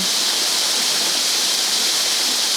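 Steady, full roar of falling water from a waterfall, continuous and even with no breaks, heard on its own with no voices.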